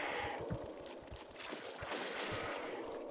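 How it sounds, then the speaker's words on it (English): Rapid gunfire from shooting zombies in the game SAS Zombie Assault 3, a dense stream of quick low thuds and pops running steadily for about three seconds, fairly quiet overall. "See all those guts that just went flying when I shot those zombies?"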